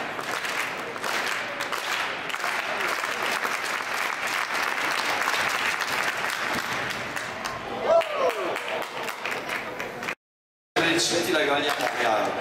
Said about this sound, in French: mérite vos applaudissements